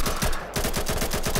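AK rifle in the video game Garry's Mod firing rapid automatic bursts, each shot a sharp, loud crack in a fast steady rhythm with a brief gap near the start.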